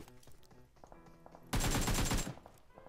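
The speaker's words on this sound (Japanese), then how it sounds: "遠くでも銃声してる。" A burst of rapid distant gunfire in the game PUBG Mobile erupts midway and rattles on for about a second, loud against a backdrop of game music and ambient effects.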